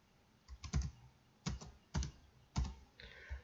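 Computer keyboard typing in a quiet room, four short bursts of quick clacking keystrokes separated by brief pauses, close and fairly soft.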